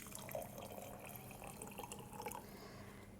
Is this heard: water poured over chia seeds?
yes